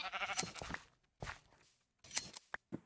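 Sheep bleat in the Minecraft video game, a few short, fairly quiet calls separated by brief gaps, with small clicking game sounds between them.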